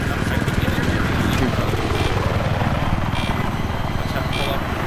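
Helicopter in the video game Battlefield 3 during an armored battle, a loud, steady rotor chop and engine roar running throughout, with players talking over it.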